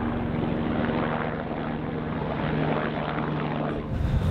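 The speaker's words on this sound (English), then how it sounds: "We see quite a few helicopters going past us each day." Helicopter flying past on the Everest Base Camp trek: a steady, loud rotor and engine drone with a fixed tonal hum, nearby and continuous, with no talking over it.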